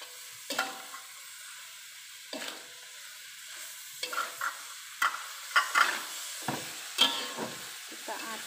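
Tofu and tempeh being stirred in a frying pan with seasoning: a steady soft sizzle broken by repeated scraping, clattering strokes of a spatula, close and moderately loud.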